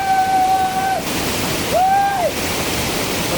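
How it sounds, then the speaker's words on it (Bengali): Rushing roar of the Jatinga waterfall fills the whole stretch as a steady, dense wash of falling water, with two brief whistle-like tones rising over it. "কত সুন্দর ঝর্ণা দেখো আইছে"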